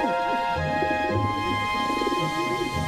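Doves coo at a farm dovecote, soft low repeated coos set against a steady sustained musical background, with no one speaking.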